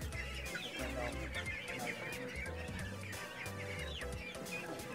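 Young ducks on a duck farm chattering together in a busy, continuous chorus of peeps and clucking calls, fairly close, with a low rumbling hum underneath.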